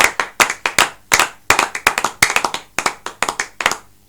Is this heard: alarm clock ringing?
no